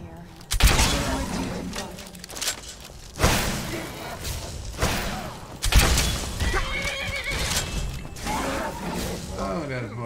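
A horse in the video game Skyrim whinnies several times in bursts, with clattering hooves and thuds between the calls, fairly loud and close.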